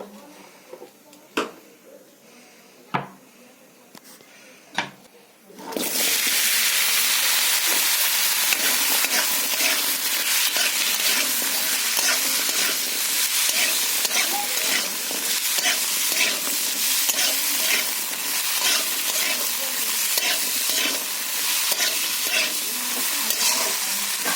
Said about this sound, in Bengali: এবার আমি কড়াইতে তেল দিয়ে দিব, দিয়ে আমি সবজিগুলো আগে ভেজে নেব।